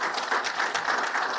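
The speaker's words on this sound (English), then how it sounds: "Big round of applause for her." Dense audience applause at a university athletics press conference, many hands clapping steadily throughout.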